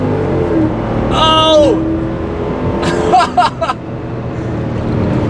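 A nitrous-fed Mercedes V8 AMG car accelerating hard in a street race, a loud rising engine roar with a brief whining pitch sweep, mixed with excited shouting and talk from people in the car.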